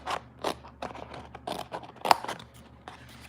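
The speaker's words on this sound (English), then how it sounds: "I'm going to trim this out with my snips" Metal snips cut out a paper sticker element from an autumn scrapbooking kit, giving a series of close, crisp snipping crunches at an irregular rhythm, one louder snap near the end, with no talking.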